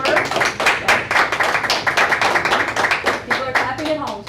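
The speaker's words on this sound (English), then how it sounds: "People are clapping at home too." People clap together in a school board work session, a steady run of close, loud handclaps lasting several seconds with voices mixed in underneath.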